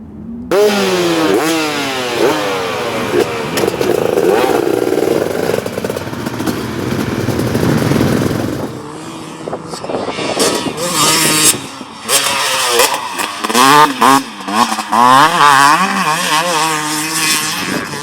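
A 2017 KTM 250SX two-stroke motocross bike on a dirt track, its engine revving hard and close with repeated rising and falling sweeps through the gears, briefly easing off before ripping back up in choppy bursts.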